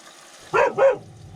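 A dog gives two quick barks close by, over a low steady background hum, inside an RV.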